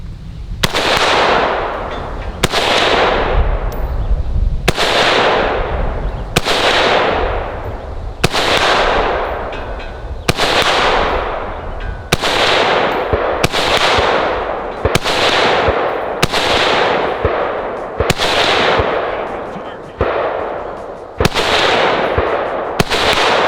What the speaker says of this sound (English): Next, we're going to shoot the BM-59.